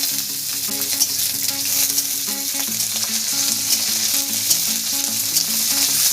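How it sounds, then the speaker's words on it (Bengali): Peanuts, garlic and black cumin frying in a pan, a dense continuous sizzle with stirring, heard steadily over soft background music. "এবার ভালো করে রসুন, কালো জিরে আর বাদামটা একটু ভাজা ভাজা করে নেব।"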